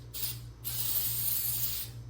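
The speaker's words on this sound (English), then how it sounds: "I have a can of silicone spray here" Silicone spray hisses from an aerosol can while a 1972 GMC Jimmy's vent window is being restored. Two close, steady bursts of hiss are split by a short gap, with a low mechanical hum running underneath.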